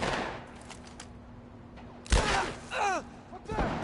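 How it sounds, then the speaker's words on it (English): Shotgun fire in The Last of Us Part I: one heavy, booming blast rings out midway, set among game effects, a low steady hum and brief voices. "Shotgun for Peter."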